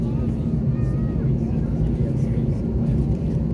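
An airplane descends to land, heard from inside the cabin as a steady, loud engine and airflow rumble that holds constant throughout, with faint voices in the background.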